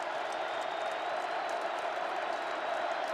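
A packed, mostly Ohio State football stadium crowd at the Ohio State vs Wisconsin Big Ten Championship game roars in a loud, steady, unbroken wash of noise.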